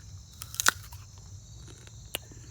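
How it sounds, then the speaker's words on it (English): A crunchy, freshly harvested jujube fruit is bitten once, giving a sharp, close crunch followed later by a fainter single crackle, in an otherwise quiet setting with no talking. "we'll give it a bite and see if we can capture the sound"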